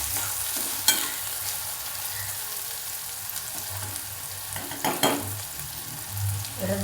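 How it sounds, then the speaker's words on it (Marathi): Onion and curry leaves, salted, saute in a pan for a spiny gourd dish, giving a steady close sizzle with repeated scraping stirs and a few sharp utensil knocks, with no talk. "कांदा परततानाच असं मीठ टाकायचं म्हणजे कांदा लवकर परतला जातो."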